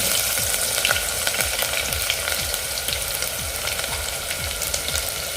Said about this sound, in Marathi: व्यवस्थित फ्राई झालं आहे त्यात आपण कांदा घालून देऊया